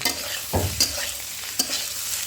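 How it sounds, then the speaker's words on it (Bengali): Ground cumin and chili powder sizzle in hot oil in a pan while being stirred for shukto, a steady frying hiss broken by a few sharp scraping strokes of the spoon, close and loud with no talk. "একটু নেড়ে নেব।"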